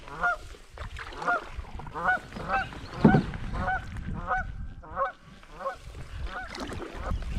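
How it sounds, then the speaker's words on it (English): Canada goose honking close by in front of a canoe traveller at a river portage, repeated loud nasal two-note honks in an irregular rhythm, with quieter background sounds between calls. "I surprised the Canada Goose. He's in front of me. Not happy."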